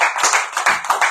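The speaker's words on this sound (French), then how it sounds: "On applaudit le bistrot qui a remporté le jeu." Short burst of clapping from a small group in a bistro, celebrating the café that won a radio quiz game; uneven, lively hand claps with no talk over them.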